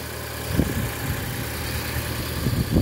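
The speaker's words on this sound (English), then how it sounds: "Sorry about the engine noise, I should have turned it off." Audi TT mk2 engine idling with a steady low rumble and faint periodic pulses, close and constant throughout, no voices.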